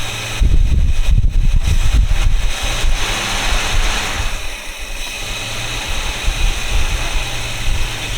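A 1973 Plymouth Satellite Sebring engine idles steadily and loudly up close, with a rougher, louder stretch in the first few seconds before settling into an even run.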